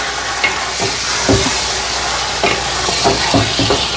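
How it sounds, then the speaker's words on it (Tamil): Yogurt is mixed into chicken biryani in a pot, repeated scraping and stirring strokes over a constant sizzling hiss, close and fairly loud. "இதையும் ஒருக்கா வடிவாக மிக்ஸ் பண்ணி விட போகிறேன்"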